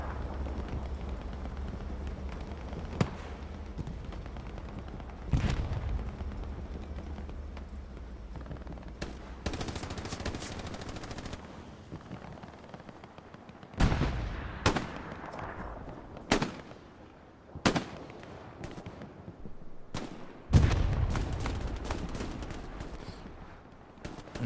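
Gunfire and a bazooka blast at Utah Beach Chapel in Hell Let Loose, with scattered single shots and sharp loud cracks over a low rumbling battlefield, a few heavy booms standing out near the end.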